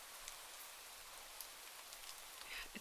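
Soft, steady rain patters faintly in the background with occasional louder drops, alone and without talk.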